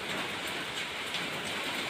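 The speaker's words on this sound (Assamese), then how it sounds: "বৰষুণৰ শব্দ" Steady rain falling through the evening dusk, a dense, even patter that continues without pause and holds a moderate level throughout.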